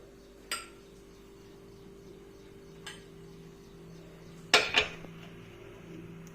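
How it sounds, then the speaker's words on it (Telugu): A kadai pan set down on a home kitchen stove: a few light metallic clinks and knocks, with a sharper double clank near the end, over a faint steady hum. "కడాయి పెట్టుకొని స్టవ్ ఆన్ చేసుకోవాలండి."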